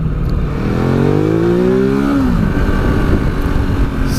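A 2017 Ducati Multistrada 950 motorcycle's engine revs up as the throttle is wound on, its pitch climbing smoothly for a couple of seconds before dropping back under loud wind rush.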